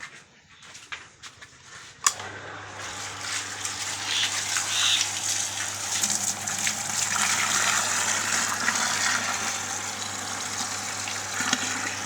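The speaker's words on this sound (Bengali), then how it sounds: "1 মোটরে পানি একটু বেশি ওঠে আর হাফ মোটরে একটু আস্তে ওঠে" A household electric water pump starts with a sharp click and then runs alone, a steady low motor hum under a rushing gush of water for the rest of the span.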